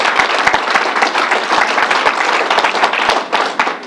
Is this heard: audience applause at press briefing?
yes